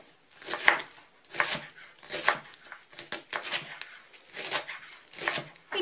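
A knife chops ingredients for Polish oxtail soup on a board, a series of irregular crisp cutting taps close by with no talking.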